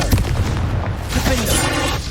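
A Confringo blasting curse goes off in Hogwarts Legacy with a heavy booming explosion and follow-up cracking bursts, with a voice shouting over the blast partway through.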